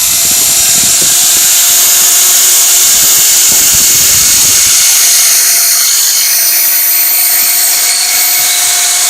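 A power tool polishes the finish on a wooden dovetail box, giving a loud, steady high whine close by, with faint knocks in the first half and no talk.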